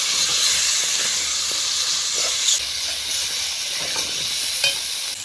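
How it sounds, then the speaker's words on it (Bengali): Cut potatoes frying with masala in a pan for a katla fish and Malabar spinach curry give off a steady, loud sizzle and hiss, with a couple of brief stirring knocks. "এখন কেটে রাখা আলু দিয়ে দেবো মশলার সঙ্গে আলুগুলোকে একটু ভালোভাবে ভেজে নিব"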